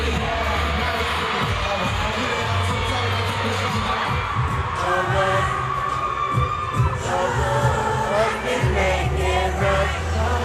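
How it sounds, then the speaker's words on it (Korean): A stadium crowd at a concert roars in a sustained, dense wall of cheering and screaming that holds steady throughout, with deep rumbling bursts underneath. "엄청난 함성이 터졌습니다."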